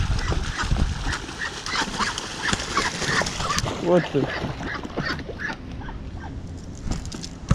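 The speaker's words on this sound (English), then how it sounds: "Did you see that duck just attack him?" A mother duck quacks repeatedly while attacking an iguana outdoors in Florida, loud raspy calls scattered throughout amid rustling and splashing, with people talking and exclaiming over the commotion.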